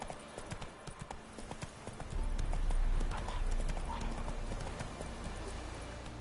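Hooves of a horse in Witcher III: Wild Hunt clip-clop in quick, rapid strikes, at first lighter and then thicker, with a low rumble swelling under the steady hoofbeats.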